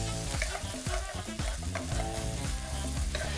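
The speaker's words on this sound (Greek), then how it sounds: "Προσθέτουμε 2 κουταλιές σούπας πελτέ ντομάτας και σοτάρουμε για τουλάχιστον 2" Tomato paste is sautéed in a pan for a pastitsio meat sauce, giving a dense, continuous close-up sizzle with repeated stirring scrapes throughout.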